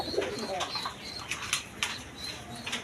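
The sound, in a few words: pigeons cooing, red Jacobin pigeons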